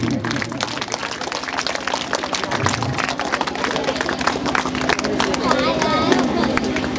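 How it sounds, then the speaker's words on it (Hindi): Continuous hand-clapping from an assembled audience at a school award function in Sausar, Chhindwara, a dense, even patter with murmuring voices underneath throughout. "तालियां बजती रहे।"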